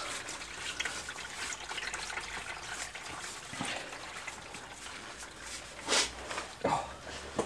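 Old engine oil from a Mustang GT drains into a bucket during an oil change, a faint steady liquid trickle with a few sharper splashes or clinks near the end.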